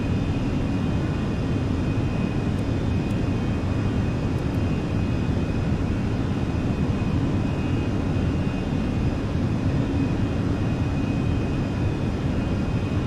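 Steady, loud engine roar of an airplane climbing after takeoff from Syracuse in Microsoft Flight Simulator, a continuous broadband drone with no talk.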